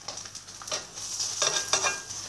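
An egg frying in a pan sizzles and crackles steadily, with hissy bursts rising and falling over about two seconds and no voices.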